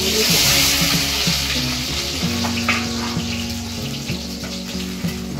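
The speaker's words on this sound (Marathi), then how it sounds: "आता आलू टाकते याच्यात, तेलात" Potatoes frying in hot oil for sabudana, a loud steady sizzle that fills the whole stretch, with the odd clink or stir under a low tonal hum.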